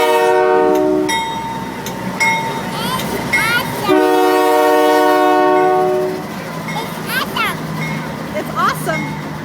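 A holiday train passes close by with a loud, sustained horn blast, then heavy rumbling and rail clatter as the cars roll past, while an adult and someone talk excitedly over it.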